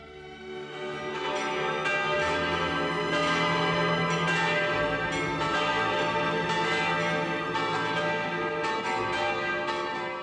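A church bell rings continuously with rich, sustained overlapping tones, loud and steady, with strokes repeating throughout and no voices.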